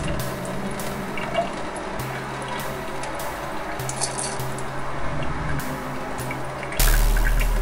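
Rinsed basmati rice being drained in a pan: wet dripping and sloshing with small clinks, ending in a louder rush of pouring water, all without talk.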